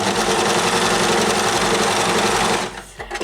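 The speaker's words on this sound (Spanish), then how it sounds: "yo voy a coser sobre esta tela negra, vamos, tela negra oscura" An overlock sewing machine stitches across dark black floral fabric, a loud, steady rapid mechanical whir with a fine rhythmic chatter that runs close up for most of the moment before cutting off abruptly near the end.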